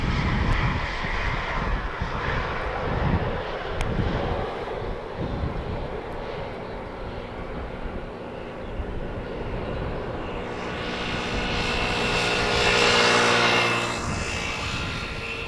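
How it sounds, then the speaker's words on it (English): A Boeing 777 arriving from Shanghai on approach at Amsterdam Schiphol in windy conditions, with a steady loud engine roar that swells toward the end as it passes nearer. "the 777 coming in from Shanghai"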